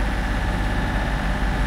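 A sailboat's engine runs at sea, a steady, constant low drone with a throbbing rumble, close and unbroken, with no voices over it.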